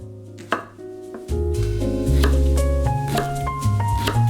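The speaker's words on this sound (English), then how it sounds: "I've also got half a leek that I cut into chunky pieces as well." Knife chopping half a leek into chunky pieces on a board, with a few distinct cuts early on, then background music swelling loudly over the chopping.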